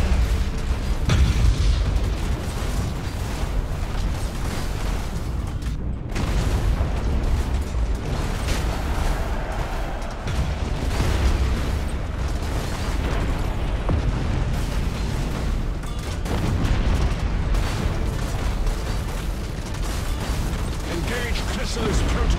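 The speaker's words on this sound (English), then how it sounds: "Initiate Thunderhawk bombardment." Space battle in Battlefleet Gothic Armada 2 with Thunderhawk bombardment: a dense, continuous wall of booming explosions and mechanical rumble, heavy low-end blasts rolling one after another without pause, with game voice lines mixed in.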